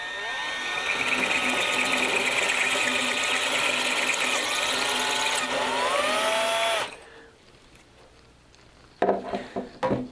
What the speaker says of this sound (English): slowly start our drill into the countersunk hole and just chase through